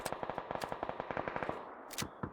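A fast gun fires in rapid automatic bursts in a video game, a quick run of evenly spaced close shots followed by two separate louder blasts.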